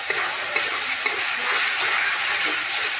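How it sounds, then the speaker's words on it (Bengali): Spices are sautéed in a pan of oil after pangas fish pieces have been fried, a loud, dense, close sizzle with a few faint spatula taps near the start. "এর মধ্যে মশলাগুলিকে কষিয়ে নেওয়া হচ্ছে।"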